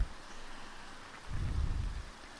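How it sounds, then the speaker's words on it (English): Steady rain in the video game Neo Scavenger, a soft even hiss throughout with a low rumbling swell in the second half, no voices present. "So we have some rain sounds."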